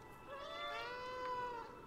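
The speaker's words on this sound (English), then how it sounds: "I found the meow button." A cat meows in the video game Stray, triggered by the in-game meow button: one drawn-out, clear meow lasting nearly two seconds, heard close and alone without talk.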